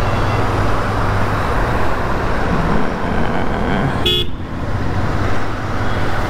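A brand-new motorbike's horn gives a single short toot partway through, set against a steady wash of engine and road noise.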